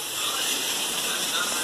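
Running tap water pours in a steady, loud hiss over a dirty tray being washed in a home kitchen sink, continuous and close with no voices.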